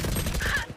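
A rapid fusillade of gunshots in the video game Full Sense, a dense burst of cracking shots close and loud that cuts off within a second.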